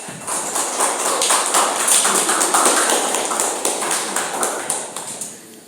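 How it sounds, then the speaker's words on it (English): A school audience gives a lively round of applause for teachers during a student English presentation, crisp close-up clapping from many hands that builds, holds steady, then gradually thins out and fades. "let's all give a big applause to our great teachers"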